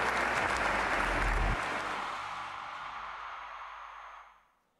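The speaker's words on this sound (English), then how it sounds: "A big round of applause, my friends." A large student audience at the Bharatiya Chhatra Sansad gathering claps loudly in a thick, continuous roar that eases slightly midway, then fades out over the final second.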